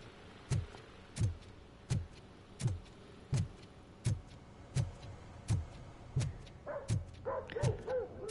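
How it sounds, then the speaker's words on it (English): Dog barking in the Robocop Rogue City video game: a regular series of about a dozen sharp, evenly spaced barks, fairly close, with a few quicker yips crowding in at the end. "Bark, bark, bark, bark."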